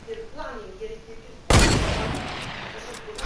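Video game gunfire bursts in abruptly and loudly after a stretch of quiet talking, then rings out in a dense, sustained rattle of shots that gradually fades.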